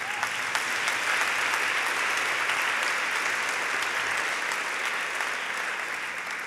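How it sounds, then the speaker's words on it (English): Audience applause at a New York City political award event, sustained dense clapping from a large crowd at moderate level, continuous throughout without talk. "That's why that does deserve applause."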